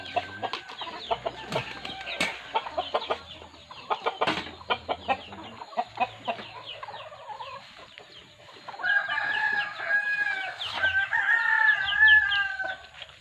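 A rooster crows and chickens cluck in bursts, with a long, louder stretch of overlapping crowing and calls toward the end.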